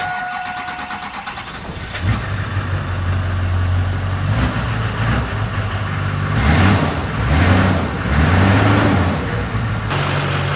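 A 2002 Chevrolet Silverado 2500HD with an LB7 Duramax diesel, just repaired for a leaking fuel filter housing, cranks briefly, fires up loudly and settles into a rough, rumbling idle close by, with some revving swells.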